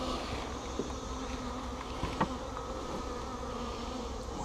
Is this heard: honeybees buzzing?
yes